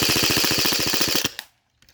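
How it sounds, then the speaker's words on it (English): An airsoft AK electric gun fired from the hip, shooting BBs in a rapid, loud, evenly spaced burst of about twenty shots, then stopping abruptly into near silence with a faint click at the end. "Very quickly, that shot a decent amount of BBs down the field,"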